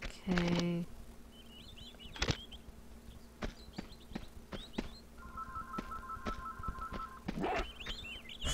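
A telephone rings with a steady electronic tone in the middle of the clip, surrounded by sharp clicks, buzzy chirps and a low hum, all fairly quiet and without talk.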